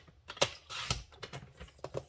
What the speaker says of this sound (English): Let me get the trimmer. because I only need a little piece. So I'm gonna cut a piece.